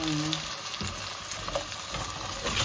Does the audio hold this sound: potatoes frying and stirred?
yes